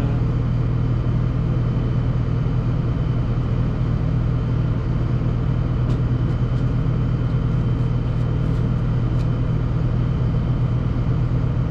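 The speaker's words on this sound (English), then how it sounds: "Just go shut the truck off for a minute." A truck engine idles steadily nearby, a continuous low rumble with no change in pace and no voices over it.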